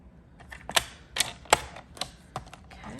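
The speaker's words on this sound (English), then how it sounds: "these longer pieces we are going to cut to 8 inches" Designer paper strips being trimmed to length on a paper cutter, giving a series of sharp clicking slices and snaps, about five distinct cuts in quick succession close to the mic.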